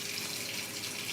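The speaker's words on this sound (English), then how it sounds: "Everybody in the Southwest is probably mad at me for my water running." Tap water pours steadily into a sink, a continuous close rushing splash with no pauses.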